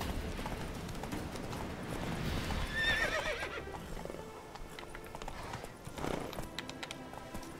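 A horse gallops with drumming hooves in The Witcher 3: Wild Hunt, then lets out a loud neigh partway through before the hoofbeats go on, close and steady.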